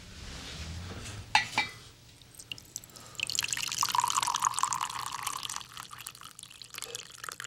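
Tea poured from a pot into a cup in a quiet room, a steady liquid trickle building for several seconds after a couple of soft clinks, fairly close and alone without talk.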